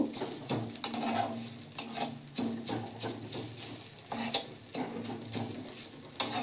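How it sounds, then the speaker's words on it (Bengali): A metal spatula scrapes and clatters in a pan while crisp fried neem leaves are broken up, a repeated, uneven rhythm of close scraping strokes over a low sizzle of oil, with no speech. "তো আমি খুন্তি দিয়ে এগুলো ভেঙে নেব"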